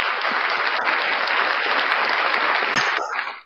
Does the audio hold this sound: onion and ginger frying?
no